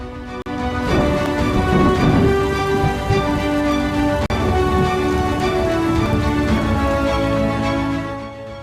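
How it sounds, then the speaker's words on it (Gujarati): A heavy, steady downpour in Nadiad, Gujarat hisses continuously, with dense rain noise filling the whole stretch and no voices. "મધ્ય ગુજરાતમાં હાલ મેઘરાજા ધોધમાર રીતે વરસી રહ્યા છે"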